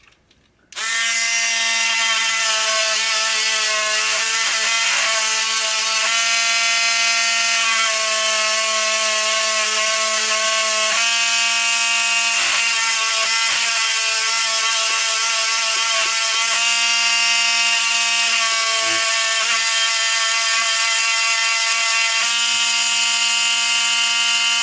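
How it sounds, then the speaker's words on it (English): Electric buzzer of a 1976 Bally Night Rider pinball machine drones loudly and continuously for about 24 seconds with a steady, harsh harmonic tone, briefly wavering at a few points but never stopping. "Alright, get the buzzer."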